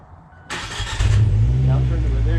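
A Mazda MX-5 ND or Fiat 124 Spider engine cranks and catches, then settles into a loud, steady idle close by, with a voice talking over the start.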